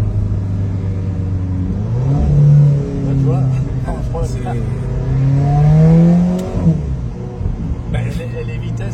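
Alfa Romeo 4C engine revving loudly through quick gear changes, its pitch climbing and dropping several times between shifts, close by inside the car while people talk over it.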